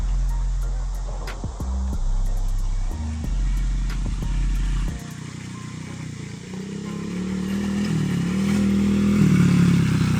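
A worn-out dirt bike rolls downhill under back braking, its engine giving a steady low, uneven rumble that drops off midway, then builds again to a louder, rougher drone near the end.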